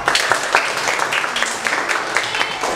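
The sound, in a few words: class clapping hands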